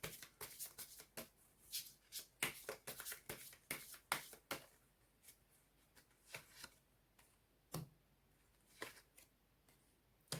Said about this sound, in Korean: 조언종 카드 뽑아보도록 하겠습니다